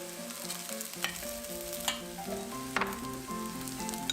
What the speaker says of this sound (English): There are many different methods cooking the rice, but sauteing it always gives some nice more flavor